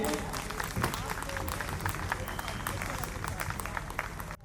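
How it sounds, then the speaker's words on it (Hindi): Crowd at an International Yoga Day event in Chandigarh applauding a guest onto the stage, a steady spread of clapping with voices mixed in, cutting off abruptly at the end. "तालियों से स्वागत कीजिए।"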